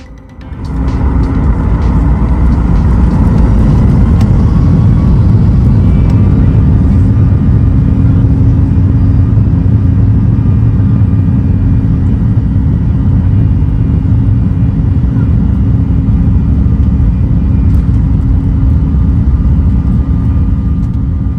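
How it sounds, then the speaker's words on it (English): Jet engines of a Ryanair Boeing 737 MAX 8-200 roar through the takeoff roll at Warsaw Modlin, heard from inside the cabin: a loud, steady, deep broadband roar that builds within the first second and holds without letup, with no talking. "listen to the roar of the engines as we get underway"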